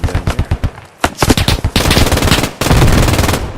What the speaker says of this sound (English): Just absolutely brutal with that machine gun.